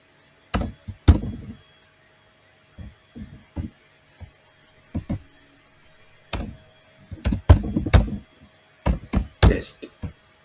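Scattered bursts of keyboard typing, close and fairly loud, entering a business rule name in Dynamics 365 CRM, with short clusters of keystrokes separated by quiet gaps and no voice.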